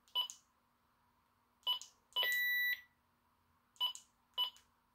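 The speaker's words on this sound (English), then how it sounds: "So we're going to turn the beep off." Short electronic keypad beeps from a PRC 152 military handheld radio: four brief chirps spaced across the stretch, with one longer steady tone in the middle, all clean and close against near silence.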